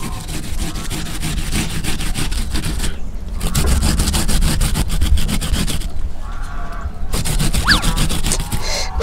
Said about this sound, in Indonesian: Umbinya mau ibu paruh dulu biar halus.